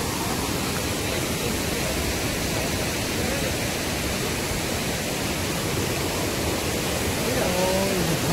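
A large waterfall roars up close as a dense, continuous wash of broadband noise, steady and enveloping throughout, with a faint voice briefly audible near the end.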